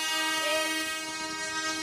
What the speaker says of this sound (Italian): È difficile anche parlare perché sentite i clacson